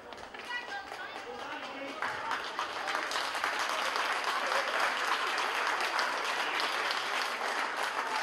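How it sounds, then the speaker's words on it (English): Crowd at an under-14 Gaelic football final in County Meath applauding as a substituted player leaves the field; sustained clapping swells after a couple of seconds and holds steady to the end. "Getting a good round of applause as he gallops off the field."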